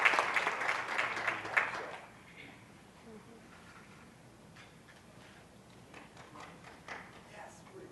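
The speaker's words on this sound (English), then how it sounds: "Let's give Kayson Brown and Melanie Shore a big round of applause and welcome." Audience applause welcoming Kayson Brown and Melanie Shore at a foundations training session, a burst of clapping for about two seconds that fades quickly into quiet room tone.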